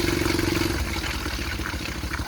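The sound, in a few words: homemade helicopter engine revving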